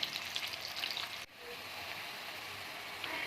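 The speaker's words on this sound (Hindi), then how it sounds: "ऑयल को गर्म करके मैंने प्याज ऐड कर दिया। इसको हल्का फ्राई करेंगे।" Sliced onions fry lightly in hot oil for a chicken and capsicum curry, giving a steady, close sizzle throughout with a brief stir-like shift partway through.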